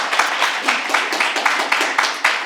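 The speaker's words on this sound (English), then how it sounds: "Can we give another round of applause?" Audience applause at an authors forum, a dense, steady wash of many hands clapping close and loud, continuing evenly without a break.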